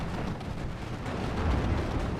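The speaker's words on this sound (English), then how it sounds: "A flak blanket being thrown up there" Flak anti-aircraft fire in Steel Division 2, a dense continuous rumble of distant bursts and booms rolling without a break, loud and low throughout.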